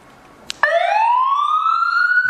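A wireless remote switches on a roof light bar siren: after a brief click, a loud electronic wail starts abruptly and sweeps steadily upward in pitch, close and alone.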